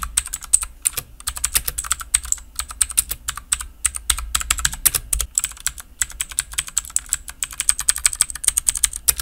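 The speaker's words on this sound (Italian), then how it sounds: "avvicino il microfono e vi faccio sentire il clicchettio dei tasti" Keys clack rapidly on an AUKEY KM-G6 mechanical gaming keyboard with a bright, crisp click, typed up close in an uneven fast rhythm with short pauses, no voices.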